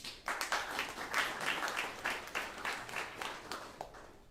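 Audience applause fills a conference hall at an agricultural startup event, a steady patter of many hands clapping at moderate volume for about four seconds, with faint voices mixed in.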